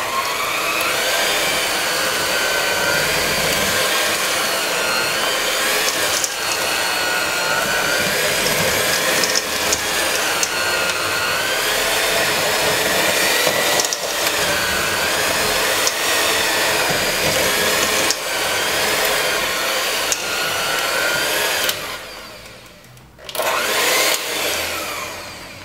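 A kitchen blender runs loud and continuous for about twenty seconds, churning thick gluten-free oatmeal cookie dough with oats and chocolate chips, its motor straining slightly, then briefly cutting out and starting again before the end.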